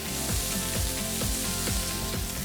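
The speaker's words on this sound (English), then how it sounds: "You hear them cracking and sizzling." Turkey and zucchini noodle burger patties sizzle steadily in a pan, with scattered small pops and crackles throughout, loud and close, with no talking.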